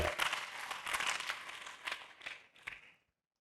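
A church congregation claps in a burst of scattered applause that thins out and stops after about three seconds, fairly faint and somewhat distant.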